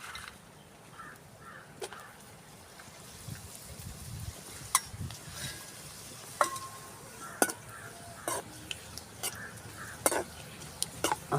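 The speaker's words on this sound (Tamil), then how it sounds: "இப்போ கொஞ்சம் கொஞ்சமாக போட்டு பொரிச்சுக்கிட்டோம்னா எண்ணெய் காஞ்சிருச்சு." Papad (appalam) crackles in hot oil at a village cookstove, a soft steady frying hiss broken by sharp scattered pops and clinks, with birds faintly audible in the background.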